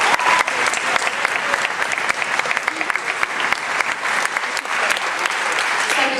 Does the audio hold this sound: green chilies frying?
no